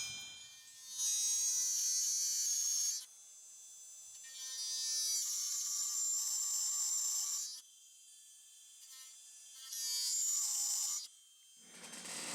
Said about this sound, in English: So this is a rough diamond burr, and I use it to get in here and carve around the eyeball that I just smoothed out.